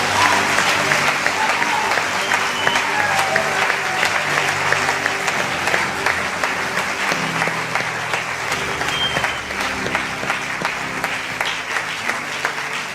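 A church congregation applauds the Lord in sustained, dense clapping that fills the whole stretch, with crowd voices and a low musical hum underneath.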